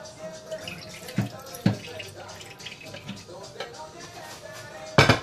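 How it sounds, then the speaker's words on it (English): Water drained off chicken breasts in a kitchen, splashing and trickling with a few sharper spatters, close and moderately loud. "I'm going to drain it because it has a little bit of water before I do that"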